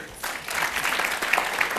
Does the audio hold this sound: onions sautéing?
no